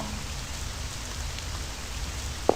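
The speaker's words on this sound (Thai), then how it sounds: "วันนี้เป็นวันที่ฝนตกอีกแล้ว" Video game rain in a visual novel bus stop scene: a soft, steady patter of rainfall hissing quietly and evenly, with a brief sharp tap right at the end.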